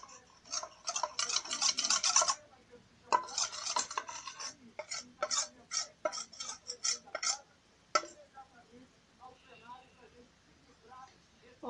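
Shampoo and cornstarch stirred with a utensil in a small container, producing rapid rhythmic scraping and clicking strokes in bursts, with a voice talking quietly under the later part.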